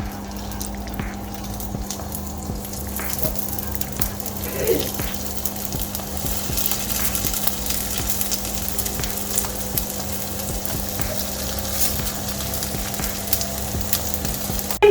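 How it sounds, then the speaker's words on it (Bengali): Momos sizzle in a hot frying pan with a little oil, a steady close hiss and crackle lasting throughout over a faint constant hum. "গরম হয়ে গেছিল প্যানটা, তাই আমি মোমোগুলো এখানে দিয়ে দিলাম।"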